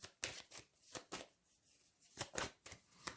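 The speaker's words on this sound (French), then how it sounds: "on va recouvrir quelques cartes" Tarot cards being handled and shuffled make soft, close riffling and flicking bursts in an uneven rhythm, with a pause in the middle and no speech.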